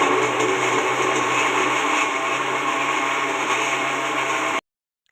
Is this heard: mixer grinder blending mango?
yes